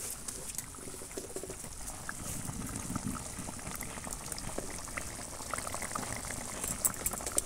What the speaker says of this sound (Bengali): তেল ঝাল আলু দিয়ে একদম টকবক করে ফুটছে